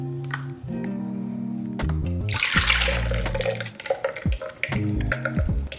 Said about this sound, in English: Let's go ahead and release this juice so that we can mix our beautiful concoction together.